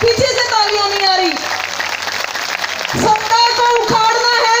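Loud crowd applause at a political rally of sadhus in Madhya Pradesh, heavy clapping mixed with a booming amplified voice and strong reverberation over a noisy outdoor crowd.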